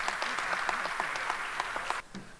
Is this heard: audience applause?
yes